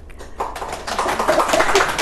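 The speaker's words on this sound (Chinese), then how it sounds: "掌声好多呀" Applause from a live show audience builds from scattered claps into steady, close clapping over about two seconds, with a faint voice beneath.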